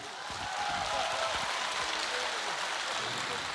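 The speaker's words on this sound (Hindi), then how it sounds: "एक बार वतन के नाम जोरदार तालियां बजा दीजिए।" Dense applause from a live comedy show audience swells in and holds steady, a close wash of many hands clapping with no clear speech on top.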